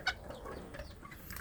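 Young free-range village chicks (ayam kampung) cluck and peep while eating softened feed, a sharp close chirp up front followed by scattered soft clucks and pecking sounds.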